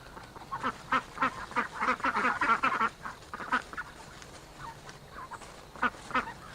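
Ducks outdoors for their first time on open ground quack in quick repeated bursts, close and fairly loud, with a brief lull midway before scattered quacks resume.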